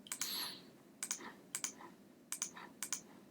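Sharp mouse clicks on a computer while selecting several items on screen, arriving as quick single and double clicks spread across a few seconds, close and fairly quiet.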